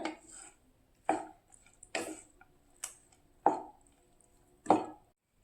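Lemon rice being stirred with a spoon after lemon juice goes in: five or six separate scraping knocks against the pot at irregular intervals, close and fairly crisp, with quiet gaps between.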